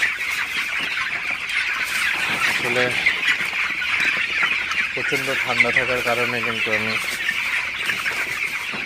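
Broiler chickens in a shed cluck steadily throughout, a dense flock sound with a constant high-pitched hum, while someone talks over it.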